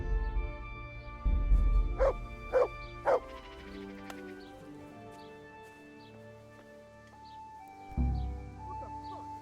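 A dog barks in the medieval video game Kingdom Come Deliverance, a short run of three or four sharp barks followed by quieter yips and whimpers over a tonal game soundtrack, with no talk.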